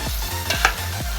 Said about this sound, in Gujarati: અને હવે આ ચમચો માર્યો છેલ્લે